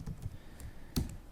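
Quiet typing on a computer keyboard while writing code in Unity, a handful of soft, irregular key clicks up close.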